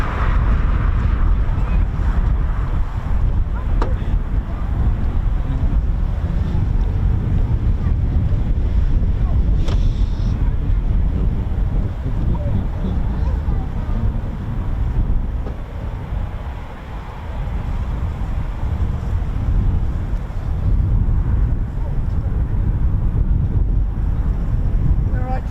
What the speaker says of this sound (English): it's actually surprisingly quite punchy, that wind